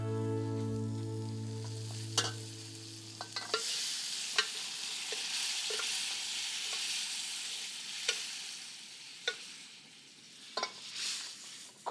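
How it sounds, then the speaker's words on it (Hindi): Chillies, curry leaves and asafoetida sizzle in hot oil for a home-style tempering, with a steady close frying hiss, a low hum in the first few seconds and several sharp clinks of a spoon against the pan. "जैसे ही रंग आ गया ना मिर्च का और करी पत्ते की खुशबू आ गई, वैसे ही हींग"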